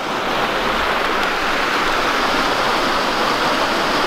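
Continuous loud rush of river water pouring through a narrow channel, a steady broadband roar with no breaks or voices.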